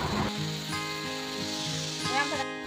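Mustard oil hits a hot pan of radish greens after the water has cooked off, giving a steady, soft sizzle with a brief louder flare near the end while a voice speaks over it.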